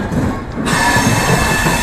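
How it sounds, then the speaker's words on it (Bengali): A loud, steady rumble of a train rolling along the tracks as it enters Lucknow Junction, dense low-end noise with a faint high metallic whine running through it. "এই মুহূর্তে আমাদের ট্রেন ঢুকছে লখনৌ জংশন।"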